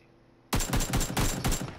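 A rapid burst of automatic gunfire in the video game PUBG breaks abruptly out of near silence, with about seven loud, close shots in quick succession.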